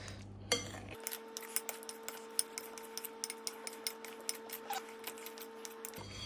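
A metal spoon mixes ingredients in a bowl until everything is coated, giving a steady run of close, light clinks and scrapes at a brisk even rhythm, with no talking.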